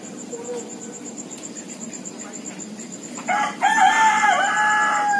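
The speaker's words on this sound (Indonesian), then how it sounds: "masih terdengar suara-suara ayam berkokok yang membuat pagi kita menjadi bersemangat ya" A rooster crows in the morning, a single loud call rising partway through over a constant bed of chirping insects and a faint background murmur.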